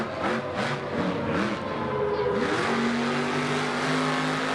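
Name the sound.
Doomsday monster truck engine revving in freestyle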